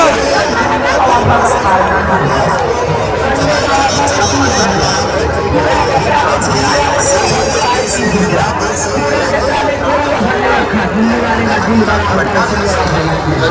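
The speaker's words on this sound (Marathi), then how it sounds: "गर्दी बघू झालेली काही" A dense, loud crowd fills the Mhasa jatra village fair on a Sunday, with steady overlapping chatter and babble from many people nearby and faint vehicle noise underneath, continuous throughout.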